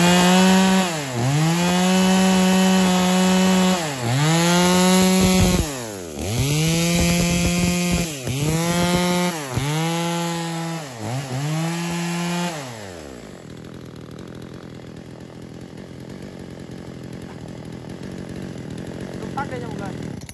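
An Echo 3201 34cc chainsaw with a muffler runs up close, revving hard in several rising and falling bursts before its engine cuts out and leaves a quiet room.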